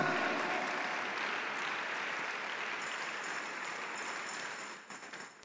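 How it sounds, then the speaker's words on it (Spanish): Sustained applause from a church congregation, even and fairly close, fading slightly toward the end with a brief dip. "¿Le puede dar un aplauso y agradecimiento al Señor?"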